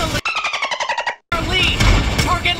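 Rapid burst of automatic gunfire in the mobile battle royale game PUBG Mobile, about a dozen evenly spaced shots lasting a second, then a brief gap before dense, noisy clattering action with faint voices underneath.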